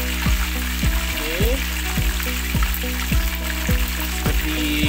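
Tilapia fish fries in hot oil, giving a loud, steady sizzle throughout with repeated scraping or turning knocks in a regular rhythm and no speech.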